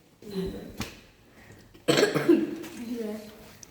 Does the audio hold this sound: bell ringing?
no